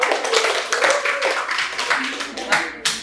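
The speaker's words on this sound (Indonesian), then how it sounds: "Boleh beri tepuk tangan buat kelompok 3." An audience at a forum on Acehnese oral tradition claps for a presenting group, scattered uneven hand claps with a voice talking over them.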